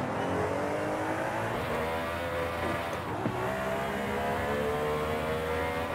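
Race car engine from the Forza Horizon 5 racing game, a Camaro, droning steadily and loud with rising and shifting harmonic tones, heard alone throughout with no talk.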